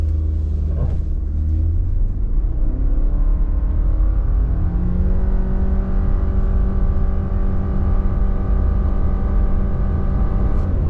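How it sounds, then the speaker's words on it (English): A 2026 Subaru Crosstrek Wilderness in sport mode with traction control off launches from a brake rev, its engine droning loud and steady as the pitch climbs smoothly through a long continuous pull, close and alone with no voices. "0 to 60 in the 2026 Subaru Crosstrek Wilderness"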